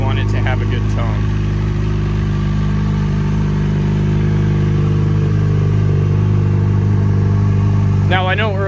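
A 2011 Yamaha FZ6R motorcycle with a stock exhaust idles close by, a steady, smooth mid-pitched engine hum that holds evenly throughout, with short bursts of other sound at the start and end.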